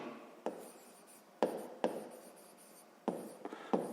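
Chalk or marker writing out a math problem on a board, quiet scratchy strokes in short bursts with pauses between, close and fairly faint.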